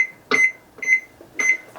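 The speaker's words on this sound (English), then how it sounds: "Set the timer." A kitchen timer beeps three times in a steady rhythm of short, sharp, fairly loud electronic tones, each followed by a brief fade, with no talking.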